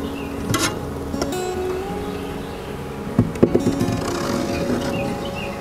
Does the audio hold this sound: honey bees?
yes